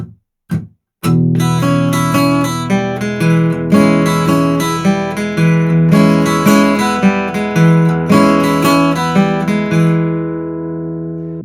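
Acoustic-toned guitar playing the E part of a 12-bar delta blues: a few muted taps, then a steady rhythmic pattern of bass notes and treble licks, close and alone, ringing out at the end.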